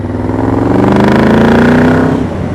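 Yamaha VMAX 1200 motorcycle intake growl while riding, a loud continuous throaty engine roar with rising and falling pitch, very close, no talk.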